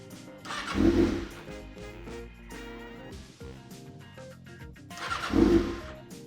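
A 2019 Kawasaki Ninja ZX-6R with an M4 exhaust cranks and catches twice, each attempt a short loud burst of engine noise. Between the attempts comes a quieter mechanical hum, all recorded up close.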